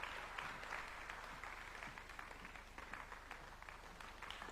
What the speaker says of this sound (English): a warm round of applause to His Excellency, President William Samoei Ruto, the President of the Republic of Kenya